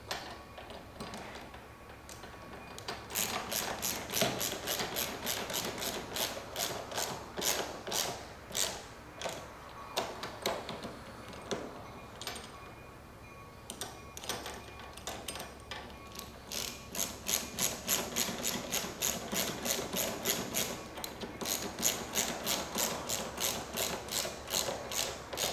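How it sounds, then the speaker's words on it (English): Bolts on a plastic scooter topcase being tightened with a ratchet, producing long runs of rapid, close clicking with a brief pause midway. "Okay, let's tighten up these front ones."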